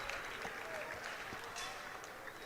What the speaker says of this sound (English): Applause from his teammates as he's going off.